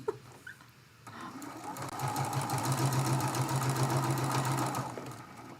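A sewing machine runs chain piecing quilt block pieces, starting after a brief pause with a fast, steady mechanical whir and needle clatter that holds for several seconds before slowing to a stop.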